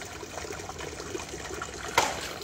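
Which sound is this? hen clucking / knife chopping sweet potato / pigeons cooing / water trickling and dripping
water trickling and dripping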